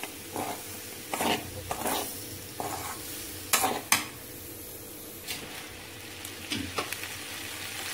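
A cauliflower side dish for mango and okra sambar is stirred and tossed in a pan, with spoon scrapes and bursts of sizzling in irregular strokes close by over a steady low frying hiss.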